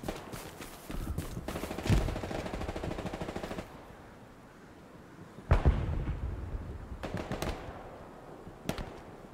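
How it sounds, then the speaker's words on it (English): Bursts of automatic gunfire and scattered single shots ring out in the World War II shooter Hell Let Loose during a night battle in the Hurtgen Forest, loud rattling volleys early, then sharp isolated cracks against a quieter background. "I'm hearing shots out here, boys, in the darkness"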